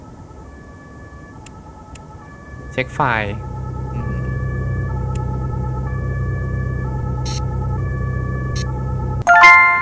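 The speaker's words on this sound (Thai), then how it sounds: "เนี่ยครับรถพยาบาลกำลังมาแอมบูเลนส์กำลังมานะครับเห็นไหมครับ" An ambulance siren sweeps in from about the 2.5-second mark with a rising wail and then holds a loud, steady tone at a street intersection, with someone talking over it and traffic noise underneath.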